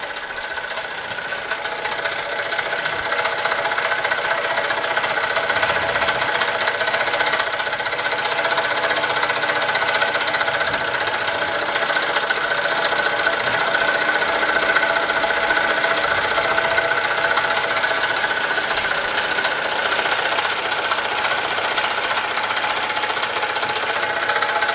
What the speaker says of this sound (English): for a small model engine of this size. Runs on very, very low pressure steam